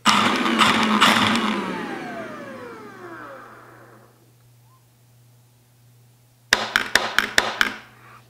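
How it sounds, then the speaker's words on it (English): A concrete-drilling dust extractor vacuum's whirring motor winds down and fades, then after a pause its automatic filter cleaner makes a quick burst of sharp, loud mechanical raps close by. "there is a automatic dust cleaner. You'll hear it make three raps."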